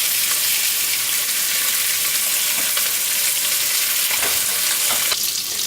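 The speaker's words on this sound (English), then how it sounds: "what we're doing with this bacon is we're basically just rendering down the fat from the bacon" Bacon frying in a pan for beef bourguignon as its fat renders down, a loud dense continuous sizzle with a few soft clicks of movement near the end.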